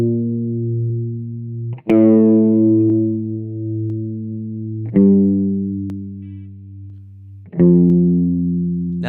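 Sustained chords on an electronic keyboard or processed instrument with distortion and chorus, a chord pattern from the Disco Elysium soundtrack, changing three times with swells, loud and close, with no voices.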